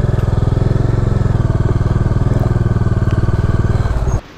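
A motorcycle engine idles loudly up close in a bike parking area near waterfalls, its rapid, even thumping running steadily before cutting off abruptly at the end.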